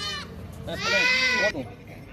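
A goat bleats nearby, one short call followed by a longer, wavering bleat lasting under a second, over a quiet farmyard background.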